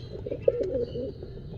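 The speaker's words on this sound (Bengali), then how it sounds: "এই কূপে ছোট দুটা বেবি নিয়ে বসে আছে মা কবুতরটি" Pigeons in a nest box with eggs and small chicks give a soft, close cooing call, a short warbling burst heard alone over faint background noise.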